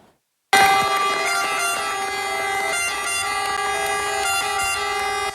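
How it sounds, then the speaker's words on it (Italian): A fire brigade siren wails loudly and steadily outside Caltanissetta cathedral during a funeral procession, a sustained harmonic tone starting abruptly after a brief silence, with a horn-like quality. "Le sirene dei Vigili del Fuoco hanno accompagnato l'uscita del feretro dalla cattedrale di Caltanissetta."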